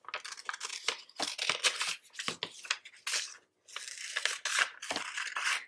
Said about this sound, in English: we're just gonna cut it out on a piece of paper